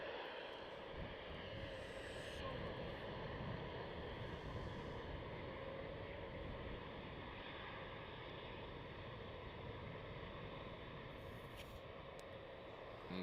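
An Aer Lingus airliner departs Amsterdam Schiphol at night for Dublin, its engines a broad steady roar that holds throughout, distant and fairly faint.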